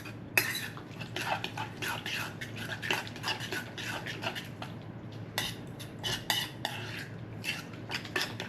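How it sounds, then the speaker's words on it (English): Chimichurri stirred in a bowl with a spoon, a run of quick close scraping and clinking strokes in an irregular rhythm, fairly quiet and with no talking. "I'm gonna give it a nice stir."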